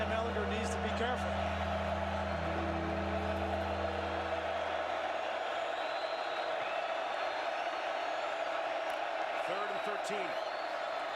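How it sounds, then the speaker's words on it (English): A stadium crowd roars steadily at a Texas at West Virginia college football game on a big third down, a loud sustained wash of cheering beneath a commentator's voice. "This crowd is in a lather early in this game on a big 3rd down."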